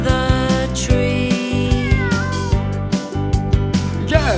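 A cat meows from up in a tree, with repeated rising and falling cries and caterwauling calls over a musical background in a children's cartoon.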